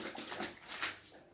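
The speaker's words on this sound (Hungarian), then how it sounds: "Mennyit iszik ez a kutya" A dog drinking water, quick wet lapping splashes, close and fairly soft, alone for a brief moment.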